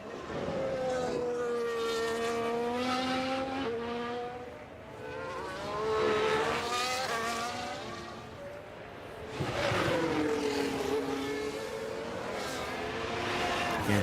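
Porsche race cars in F1 Manager 24 at Interlagos, high engine tones sweeping past in overlapping waves, loud and sustained, with a faint voice underneath.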